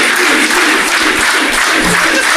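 A live podcast audience gives a loud, dense round of applause, continuous clapping that fills the room evenly from start to finish.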